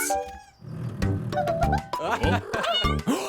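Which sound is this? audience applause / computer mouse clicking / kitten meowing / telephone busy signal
kitten meowing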